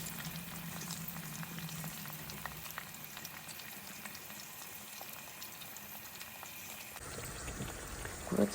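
Fish fries on a bed of curry leaves in a pan, giving a steady, close crackling sizzle with scattered pops that holds throughout and shifts slightly near the end, with no talking.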